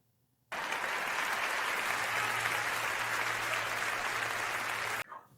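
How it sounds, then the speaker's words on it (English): A burst of applause starts abruptly after a brief silence, dense and even for about four and a half seconds, then cuts off sharply with a brief tail. "In fact, clap for yourself."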